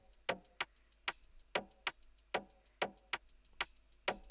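Percussion loop programmed in FL Studio with closed hi-hats for an Afro remix, playing as steady rhythmic ticks and crisp hits alongside kick-driven thumps, about sixteen strikes in a bright, punchy pattern with no voice.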